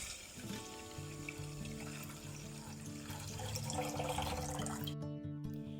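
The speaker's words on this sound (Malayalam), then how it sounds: "ഇനി നമുക്കിതൊരു സോസ് പാനിലേക്ക് ഒഴിച്ചു കൊടുക്കാം. പിന്നെ ഇതിലേക്ക് 500 മില്ലി പാലെടുത്തിട്ടുണ്ട്" Milk poured into a saucepan while making a cracked-wheat ice cream, a steady liquid pour running throughout with music playing underneath.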